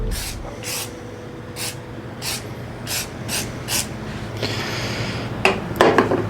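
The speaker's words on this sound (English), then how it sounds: "So I do need another quick spritz." Spray lubricant spritzed in several short hissing bursts onto a lathe during routine maintenance, close and fairly loud, repeating at an irregular rhythm over a steady background hum, with light metallic clinks near the end.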